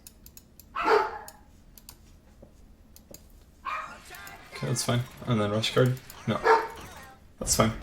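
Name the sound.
dogs barking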